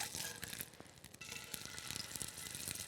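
Fish sears in a hot pan just after being flipped, giving a steady, dense crackling sizzle with scattered sharper pops throughout.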